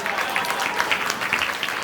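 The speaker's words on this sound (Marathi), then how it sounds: "आता जोरदार टाळ्या झाल्या पाहिजे" Audience applause at a Ganesh festival cultural programme on stage, a steady dense clapping that fills the whole stretch at moderate loudness with no voices standing out.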